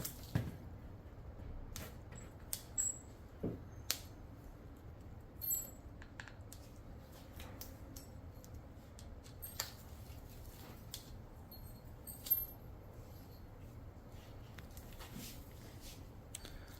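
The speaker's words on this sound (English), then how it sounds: "The noise you hear in the background is just my daughter playing with my tools" Faint, scattered clinks, taps and metallic clicks of hand tools handled by a child, irregular and quiet against a low background.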